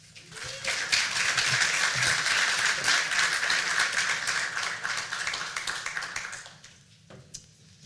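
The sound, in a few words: audience round of applause for a speaker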